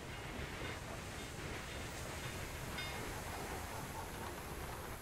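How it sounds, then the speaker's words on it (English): Train running in the rail-management game Railway Empire 2, a steady, even rumble of rolling wagons that holds constant without a break. "We're getting a lot of trains here."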